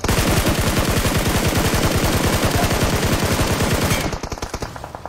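Loud, close, sustained automatic gunfire in a shooting video game, a rapid unbroken stream of shots for about four seconds that then drops away to softer scattered noise, no talk.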